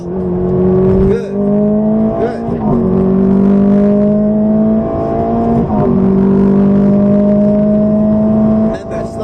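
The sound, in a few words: Ferrari F430 engine accelerating on track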